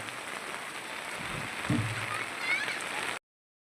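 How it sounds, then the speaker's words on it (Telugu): Heavy rain pours down in Pedakakani, Guntur district, as a steady, fairly loud wash of hiss with a brief low thump midway, then cuts off abruptly. "నాకైతే వర్షం అయితే భారీగా వస్తుంది"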